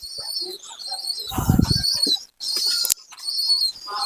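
Bursts of wing flapping from a pigeon, with a louder flurry in the middle, over a steady chorus of nearby bird calls and no talking.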